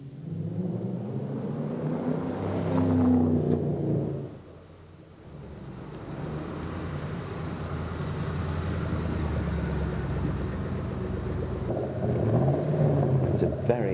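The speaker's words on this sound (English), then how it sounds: "The noise of this engine is absolutely impressive." An MG SV sports car's V8 engine rumbles steadily and deeply, rising in pitch twice as it revs, with someone talking over it throughout.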